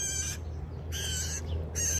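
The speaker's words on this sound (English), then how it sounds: "It goes up into the tree, it sits up there, and it squawks until I give it enough attention." A pet bird squawks for attention from up in a tree, giving three loud, shrill calls of similar length with short quiet gaps between them.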